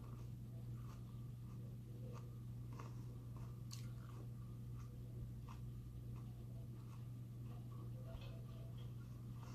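Close, quiet chewing of a small, seedy Thai bird pepper, with soft wet crunches and clicks of the mouth scattered irregularly across several seconds over a steady low hum, no talking.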